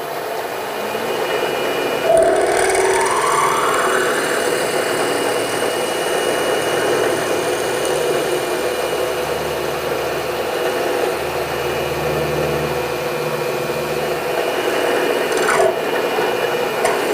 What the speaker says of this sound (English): now we're going to take that out and set up for the Heli-Coil drill.